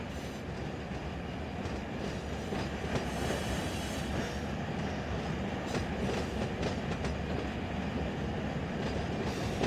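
Freight train rolling through a rail yard in Run 8 Train Simulator, steady rumbling wheels with rhythmic clickety-clack and occasional faint squeal, continuous and fairly close.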